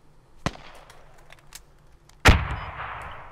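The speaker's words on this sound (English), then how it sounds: "I hear gunfire up here." Two sharp gunshots from the video game Squad, one faint early and one loud, closer blast near the end with a ringing tail.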